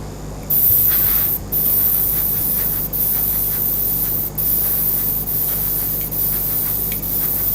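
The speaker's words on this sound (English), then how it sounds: "this is the benefit of an airbrush, guys" An airbrush sprays paint in a loud, steady hiss. It comes in repeated bursts about a second long, with brief pauses between them.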